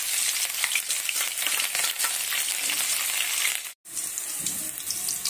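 Green chillies and cumin seeds frying in hot oil give a steady close sizzle with dense crackling and popping, broken by a brief dropout near the end.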